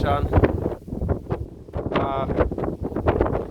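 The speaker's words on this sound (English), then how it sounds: "the winds and rain pick up more and more" Strong wind on a night mountain summit in Taipei buffets the microphone in loud gusting rumbles, with drizzle and a person talking over it.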